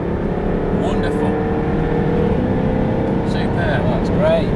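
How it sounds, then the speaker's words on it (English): A Jaguar F-Type R on the Brands Hatch circuit accelerates hard, its engine note sweeping upward through a gear change and climbing again. The engine is loud and close, with a voice talking over it. "we pick the power up, we're accelerating away, up through that gear shift again, and accelerate the car away"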